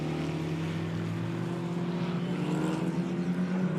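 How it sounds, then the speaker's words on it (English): A Porsche GT4 race car from Allied Racing nears the timing line during a GT4 European Series race at the Nürburgring, its engine a steady, loud, continuous drone with strong even tones throughout. "So for Allied Racing, the Porsche comes towards the timing line"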